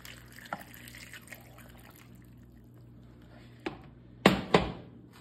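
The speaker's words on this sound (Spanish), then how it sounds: "Y también le voy a agregar un poquito más de agua." Water splashes into a pot of hen broth in two short, close bursts near the end, after a quiet stretch with faint clinks and a low background hum.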